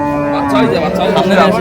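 A dairy cow at Raniganj cattle market in Dinajpur lets out one long, loud moo close by, starting steady and sliding lower before trailing off.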